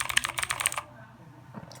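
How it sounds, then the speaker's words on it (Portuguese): Rapid clacky keystrokes on a HyperX Mars mechanical keyboard with Outemu Blue switches, a dense burst of crisp clicks close up for under a second, then quiet apart from a few faint taps. "E vamos ver o som das teclas, né? Faz bastante barulho, sem dó."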